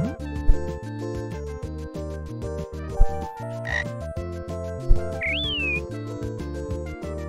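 Frogs in the game I'll Be Brave, Tomorrow give several short croaks over busy, rhythmic game music, with a brief chirping squeal near the end.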